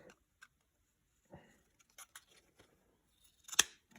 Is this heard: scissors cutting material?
yes